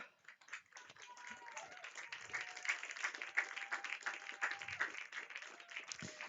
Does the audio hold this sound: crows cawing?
no